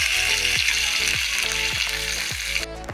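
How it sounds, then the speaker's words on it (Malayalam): Five finely chopped green chilies fry in hot oil for a tapioca thoran, making a loud, continuous hiss with a repeating pitched pattern underneath, close and steady until it thins out at the end. "അതിലേക്ക് ഒരു 5 പച്ചമുളക് ചെറുതായി അരിഞ്ഞത്, ഇതെല്ലാം നമുക്ക് ഫ്രൈ ആക്കണം"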